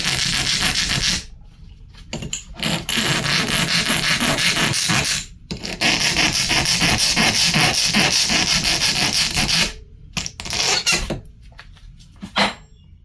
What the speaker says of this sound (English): all I'm doing is just filing this down